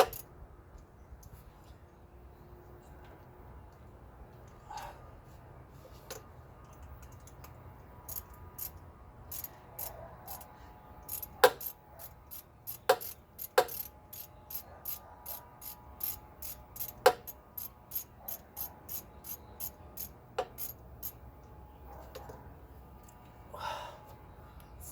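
A bolt being worked loose from the timing chain tensioner of a Honda S2000 with hand tools, heard as close, quiet runs of sharp ratchet clicks and metallic ticks in irregular bursts, with breathing and faint movement between them.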